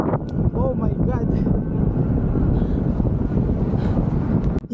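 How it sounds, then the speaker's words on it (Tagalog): Strong wind buffets the microphone throughout a cold-weather bike ride, a dense continuous low roar with gusty swells, while a person talks over it in the opening seconds. "Sobrang grabe ng hangin dito."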